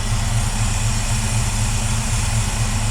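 A completely cold Ford 351 Cleveland V8 idling on a tune-up, a steady low rumbling idle with an even throb, close and continuous with no voices.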